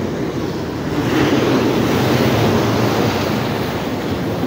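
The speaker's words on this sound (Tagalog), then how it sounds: "Alon, maalon." Rough sea waves breaking near rocks on the coast of Andalusia, Spain, a loud continuous roar of surf with wind buffeting the microphone throughout.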